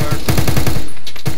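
Suppressing automatic gunfire in the military video game Arma 3, loud and close: a steady, fast chain of shots that runs for well over a second with hardly a pause.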